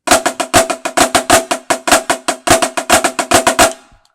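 A drum plays a flam tap exercise that shifts from a 6/8 phrase into 2/4. Crisp, close strokes come in steady accented pairs and groups, about two dozen hits, with no other sound, and the last hit rings out briefly.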